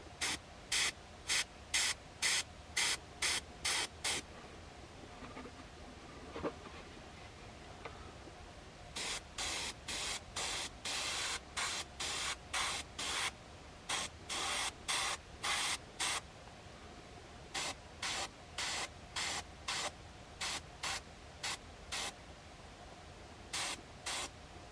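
Airbrush spraying paint onto a flocked mallard drake decoy, heard as a long run of short hissing bursts in quick rhythmic succession, close and steady, with brief pauses between groups of sprays and no talk.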